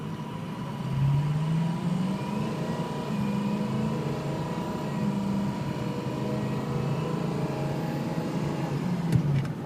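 A 2006 Ford F250 4x4 diesel pulls away from a standstill, its turbo engine droning steadily and rising in pitch through smooth gear shifts, heard from inside the cab with no talking.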